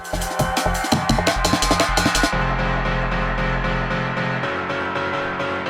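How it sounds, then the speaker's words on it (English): Punchy rave-style piano stabs hit in a quick rhythmic pattern over a heavy bass, then a sustained chord rings out with a low bass tone underneath. "how to make a rave piano sound like this one"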